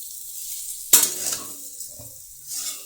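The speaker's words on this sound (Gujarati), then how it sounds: "એને આપણે જે ઢોકળી નાખી એને સરસ રીતે વઘાર સાથે મિક્સ કરી લઈશું." Dhokli stirred into a spicy tempering in a pan over a low flame, a sharp scrape and clatter of the spoon followed by soft stirring and a quiet sizzle, close and clear with no voices.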